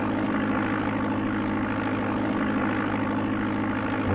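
A steady, droning propeller aircraft engine from Amiga Flight Simulator II hums continuously at close range with no variation, approaching Chicago O'Hare.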